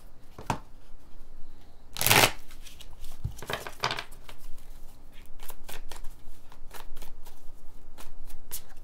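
Tarot-style cards shuffled for a reading: a sharp riffle burst near the start, then a string of quick, crisp card snaps and flicks at irregular intervals, close and clear with no talking.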